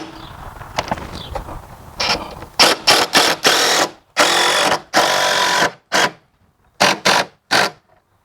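A power driver sinks screws into Trex composite decking boards: loud, close bursts of whirring motor, each lasting a second or less, separated by short silences and ending with a few quick pulses.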